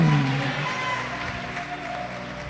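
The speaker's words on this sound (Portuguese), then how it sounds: "Pode aplaudir, glorificar." A church congregation applauds during a Pentecostal-style service, a continuous soft clatter of many hands under a sustained low hum of voices and instruments, moderately distant and fairly even.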